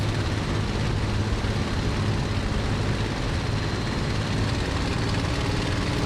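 Bf 109 G-6 fighter engine in the MSFS2020 flight simulator during a low flyby of the airfield at Duxford, a loud, steady propeller drone that holds without pause and with no talk over it.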